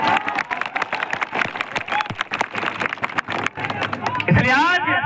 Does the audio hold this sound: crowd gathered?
yes